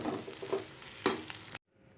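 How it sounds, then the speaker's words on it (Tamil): Steamed rice-flour kolukkattai are stirred into a frying masala in a pan, giving a close, sizzling hiss with soft scraping strokes before cutting abruptly to near silence. "இது எல்லாத்தையும் நல்லா மிக்ஸ் பண்ணி விடணும்."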